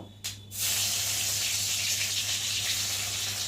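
Dried chillies and garlic dropped into very hot oil in a wok: a sudden loud hiss bursts out after a brief clatter and holds as a steady, close, bright sizzle with a low hum beneath, no talk.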